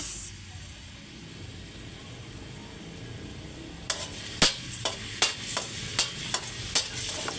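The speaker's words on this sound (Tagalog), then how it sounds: "Igigisa na yung atay, bawang at ano lang yan, sibuyas." Liver, garlic and onion sautéing for pancit: a soft, steady sizzle runs throughout, then sharp, regular scraping stir strokes in the pan join in partway through, with no talking.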